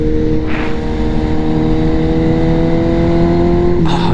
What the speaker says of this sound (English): I put a race fit exhaust on this thing. It is loud, it's obnoxious